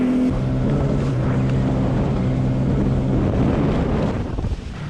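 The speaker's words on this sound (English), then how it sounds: "that's some serious wind, as you can hear" Strong wind at a lake buffets the microphone in a steady, loud rumbling roar, with a low Sea-Doo Spark engine drone underneath, continuing for several seconds.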